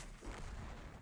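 A KV-4 heavy tank's cannon fires in the video game World of Tanks, a single loud, booming shot with a rumbling low tail filling the short clip, with no voices.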